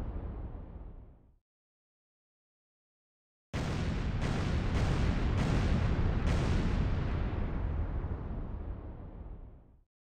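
Loud explosions in a naval battle video game: a short blast, a pause of silence, then a sustained roaring barrage with several sharp cracks on top, fading out near the end.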